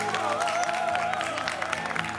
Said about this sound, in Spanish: Y hay que aplaudir, chicos, cuando digo Capitán Nemo.